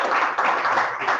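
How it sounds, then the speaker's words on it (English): Audience clapping follows a magician's rope-and-ring trick, a short dense burst of applause that holds steady through the whole moment with no voice over it. "I'll wait for the applause to die."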